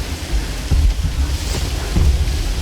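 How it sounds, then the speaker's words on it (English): Heavy wind gusts roar at sea in Assassin's Creed III, a constant loud rush of air and surf with low buffeting surges and no speech. "Heavy gusts, Captain."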